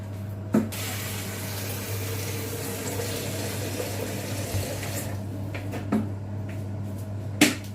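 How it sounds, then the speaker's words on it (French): Boiling water poured into a pot while cooking Kabyle meatballs gives a steady pouring splash over a low kitchen hum, broken by a few sharp clicks and knocks. "Quand l'eau est bouillante, on la renverse à l'intérieur."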